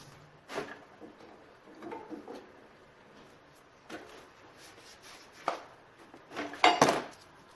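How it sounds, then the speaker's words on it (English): A steel tire spoon pries at a wheel on a restored 1940s Lincoln garden tractor, giving sparse metallic scrapes and clinks spread across several seconds and ending in a louder grinding clank near the close. "Got a tire spoon. Found somewhere to pry."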